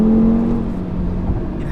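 A 2018 Audi RS3's five-cylinder engine pulling hard in gear, a steady loud droning roar heard from inside the cabin, building without a break.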